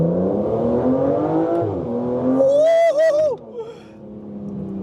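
A 2025 Aston Martin Vanquish engine revs hard and holds steady against its rev limiter, loud and close, with rising and falling harmonic engine tones and a sharp whining peak before dropping back to a lower drone.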